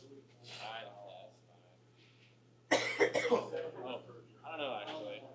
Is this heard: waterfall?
no